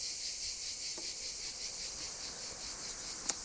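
Honeybees buzz steadily inside an open hive being inspected, a dense continuous drone with one brief click near the end and no talking.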